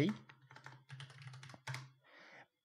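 The lsblk command is typed on a computer keyboard in a Linux terminal. A quick burst of close, crisp keystrokes forms an uneven rhythm and ends in a softer final press.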